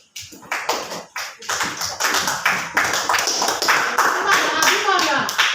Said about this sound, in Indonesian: Tepuk tangan untuk Zakira lagi.